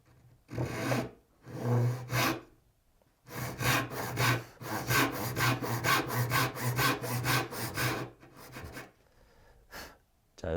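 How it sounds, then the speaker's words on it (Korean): A hand saw cuts through wood for a dovetail tenon, giving bursts of rasping, rhythmic strokes up close. Two short passes come first, then a long, steady run of quick back-and-forth strokes, then a pause and a final few strokes. "자, 이렇게 톱질을 마쳤고요."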